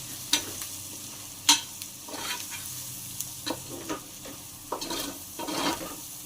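Pieces of goat tripe (boti) deep frying until brown crackle softly in oil while a spatula scrapes and knocks against the pan in irregular sharp strokes.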